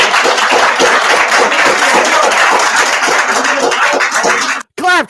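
A crowd claps in a fast, steady rhythm, loud and close, before breaking off abruptly, followed by a brief voice.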